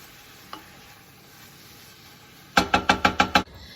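Mushroom cauliflower rice stirred in a pan with a utensil: a quiet sizzle with one early tap, then a rapid series of six sharp scraping knocks against the pan, close and loud, with no voices.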